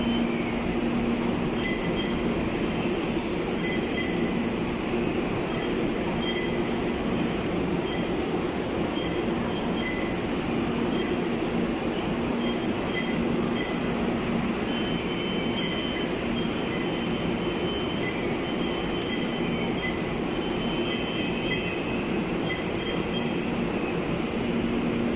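An MRT metro train at Ortigas Center, Manila, rumbles steadily throughout, a continuous loud roar of wheels on rails with faint high squeals above, no voices.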